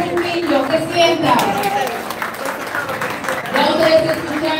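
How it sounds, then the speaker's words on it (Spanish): Applause from a crowd at the opening of a campaign office in Santo Domingo Oeste, steady clapping mixed with chatter and voices throughout, swelling again toward the end. "Un aplauso para Raxis Trujillo"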